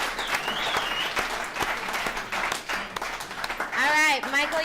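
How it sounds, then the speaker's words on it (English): Audience at an alumni recovery meeting applauds, a sustained round of clapping from a room of people, moderately loud and steady, with brief voices and a short cheer near the end. "Let's give Caesar another round of applause"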